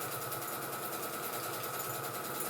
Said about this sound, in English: Anyway, continue to stitch along. Try and keep it as straight as possible.